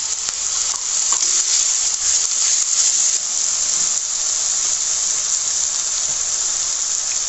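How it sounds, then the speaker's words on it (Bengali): Beef sautéing in a pan for korma, a steady bright sizzle with stirring clatter throughout, close and loud with no talking. "এখন আমি এটা ভালো করে কষান করে নেব মাংসটা।"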